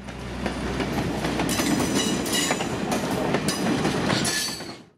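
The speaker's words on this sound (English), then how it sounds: "I'll play a clip of a train going by." A toy train sound car reproduces a train rumbling past close by, a loud continuous roar with rhythmic wheel clatter and metallic flange screeching, easing off right at the end.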